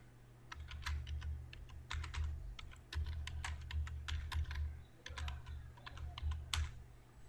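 Fingers typing a name on a computer keyboard, irregular bursts of crisp key clicks over a low steady hum, close and moderately quiet with no talking.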